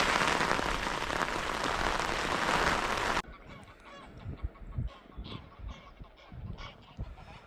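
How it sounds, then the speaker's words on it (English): Heavy rain driven by strong wind at a lake, a dense loud roaring hiss that cuts off abruptly, leaving scattered softer patters and gusts afterward. "The wind's picked up even more and the rain's got heavier"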